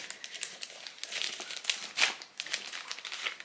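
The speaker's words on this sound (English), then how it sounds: "I'm going to snip the top." Close, quiet crinkling and rustling of packaging as the top of a delivery box is snipped open, a run of small irregular crackles with a sharper burst midway.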